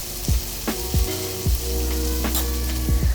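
Vegetables softening in a hot pan with chicken flavors, a steady frying sizzle with a few sharp clinks from a utensil against the pan, close and moderately loud, no voices.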